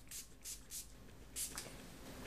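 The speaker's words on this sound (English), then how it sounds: "I'm just going to go ahead and kind of liberally spray that" A liquid screen-protector installation solution for an iPhone 4 or iPad is sprayed in several short hissing bursts, about four quick pumps close by with a pause before a final louder spritz, set against a low room hum.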